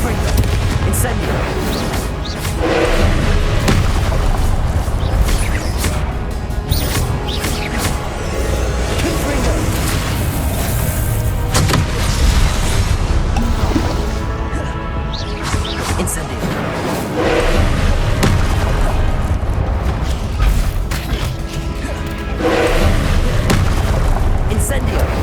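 Fire and blast spells Confringo and Incendio burst repeatedly in Hogwarts Legacy combat, a dense run of loud booms and crackling impacts over a constant battle din, with voices speaking throughout.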